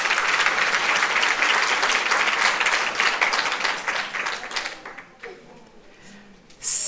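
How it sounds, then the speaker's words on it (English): Dense audience applause fills a International Mother Language Day celebration, loud and steady for about four seconds before thinning into scattered claps and fading out, with a brief burst returning at the end. "let us please give the Honorable Panyaza Lesufi another round of applause"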